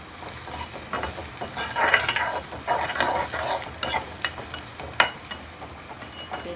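Onion, green chili, coriander and curry leaves being stirred in a sizzling pan, with continuous frying hiss and scraping utensil strokes against the metal, close and fairly loud throughout.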